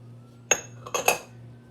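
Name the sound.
mixing minced meat with garlic, onion and spices in a bowl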